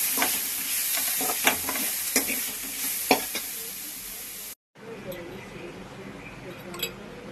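Onions and fennel seeds fry and sizzle in a pan while a spoon stirs them, scraping and clinking in irregular strokes over a steady close hiss; a short gap breaks the sizzle before it resumes more softly.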